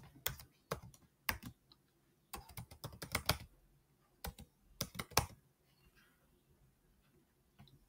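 Java code being typed on a computer keyboard: quiet, close bursts of rapid key clicks in irregular clusters separated by short pauses, with no voice over them.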